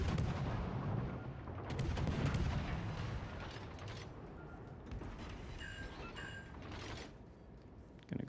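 Naval artillery fire against the battleship Yamato in World of Warships: Legends, with heavy booming salvos and rumbling blasts up close, followed by mechanical clanks and creaks, with no voice heard.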